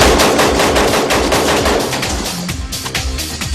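Sustained close gunfire in a shootout, with rapid bursts of automatic fire and overlapping shots, loud and dense throughout with no talk.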